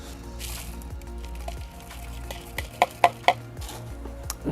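Loose pumice poured into a large bonsai pot as a drainage layer during azalea repotting; gritty rattling and scraping trickles, with a few sharp hard clicks of grains striking near the end.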